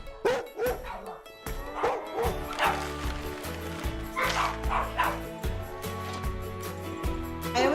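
Several rescue dogs bark, yip and whimper indoors in a home rescue room, the yelps overlapping in quick irregular bursts over a steady low background, loud and close throughout.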